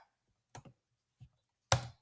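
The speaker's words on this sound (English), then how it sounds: "I'm just going to type just for the sake of it so you can see." A computer keyboard gives a few sparse, quiet keystrokes, a pair of quick taps followed by a single tap and then a louder final key press, each heard alone in a silent room.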